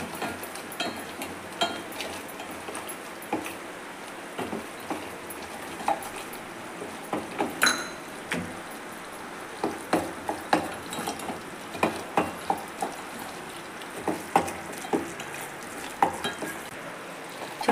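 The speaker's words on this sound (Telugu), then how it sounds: "ఈ నెయ్యిలో ఈ కప్పు గోధుమ పిండి మొత్తము వేసుకొని చక్కగా ఉండలు లేకుండా కలుపుకోవాలి." Wheat flour being stirred into hot ghee in a pan on the stove for halwa, giving a steady soft sizzle with repeated scraping and tapping strokes of a spoon against the pan, close and continuous.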